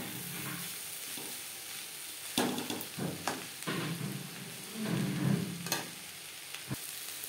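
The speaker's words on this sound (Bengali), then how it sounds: "লাউর খোসা 3-4 মিনিট লো টু মিডিয়াম ফ্লেমে নাড়াচাড়া করে নেব।" Bottle gourd peel with grated coconut and a little turmeric sizzles steadily in a pan over low to medium flame, broken by several sharp scrapes and clatters as it is stirred, with no voices.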